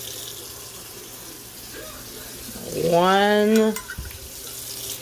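Tap water runs into a measuring cup while making Zatarain's gumbo. It starts as a soft faucet hiss, then a louder filling tone rises in pitch for about a second before it stops, with a brief spoken word.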